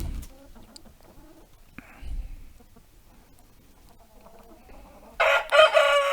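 Young Jersey Giant chickens and roosters cluck and call softly in the background, before a loud, close rooster crow bursts out at the end.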